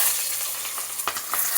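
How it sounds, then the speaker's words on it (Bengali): Chopped onion hitting hot oil in a home kitchen pan, a soft steady sizzle with a couple of sharper crackling bursts near the end, close and alone. "তেল আমার গরম হয়ে গেছে, পেঁয়াজ কুচি দিয়ে দিলাম তেলে"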